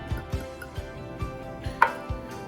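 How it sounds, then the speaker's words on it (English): Baking soda, baking powder and salt get stirred into flour in a bowl by hand, giving a regular series of soft, dull knocks roughly four or five per second, close up with no talking. "mix in my baking soda, baking powder, and salt with my flour"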